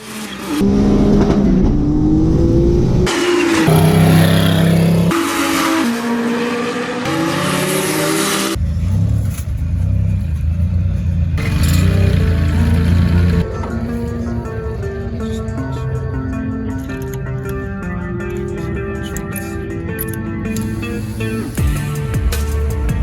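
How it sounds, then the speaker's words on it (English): Loud race car engines roar and rev hard, one after another, with bursts of acceleration and passing cars over a constant mechanical din. "a quick highlight reel of some of the fast cars that I was able to film"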